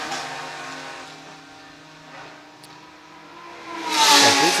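BMW race cars, including a Baltic Motor Promotion Cup BMW, accelerating on the Riga circuit: engine whine rises and falls mid-distance, then a loud close pass surges near the end.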